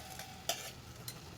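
Tomato pieces and rice stirred in a hot pan, a quiet steady sizzle with two brief scraping strokes, faint and close, with no talking.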